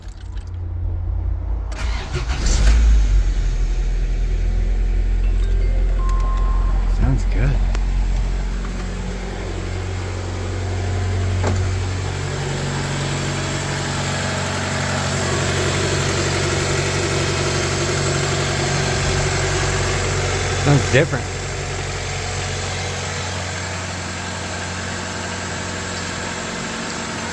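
A Honda Civic EF sedan cranks and starts, then settles into a steady low idle that runs on for a long stretch, close by, with a brief rattle near the end and a few short spoken comments.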